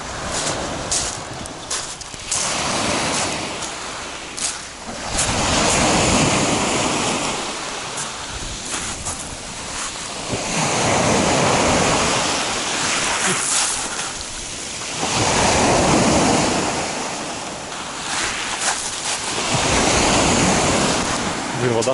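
Broad, rushing Black Sea surf on the shore at Adler, Sochi, swelling and receding in slow surges every few seconds, with steady wind noise over the microphone.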